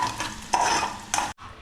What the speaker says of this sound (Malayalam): ഈ കടു വറുത്തത് ഈ പരിപ്പിലോട്ട് ഒഴിച്ചു കൊടുക്കാം.